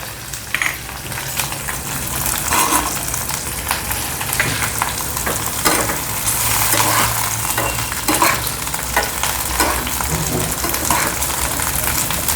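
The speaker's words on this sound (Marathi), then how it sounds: "लसूण पण थोडीशी हलके लालसर होईस्तवर आपल्याला परतायची आहे" Garlic and green chillies frying in a pan for green chilli thecha, a loud, steady sizzle broken by frequent scraping and clattering stirs up close, with a voice talking over parts of it.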